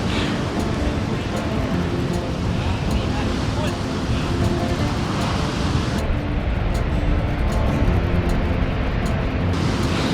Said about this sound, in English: just the waves is doing that